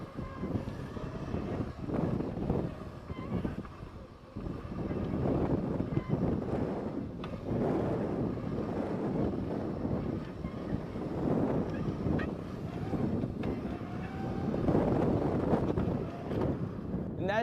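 Electric bike riding a wheelie, with steady wind buffeting the microphone and a continuous low motor and road rumble throughout; no talking.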